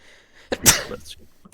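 A single sharp sneeze bursts out, close and loud, followed by a brief quiet tail.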